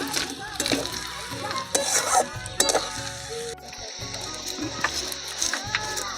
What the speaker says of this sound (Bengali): ক্যাপসিকাম, বিনস, টমেটোর সব একসাথে দিয়ে দিলাম।